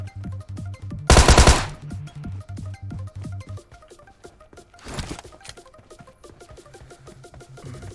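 Rapid bursts of automatic gunfire crackle in quick rhythmic volleys, with a loud blast early and another sharp burst later, no voices, in the video game PUBG Mobile.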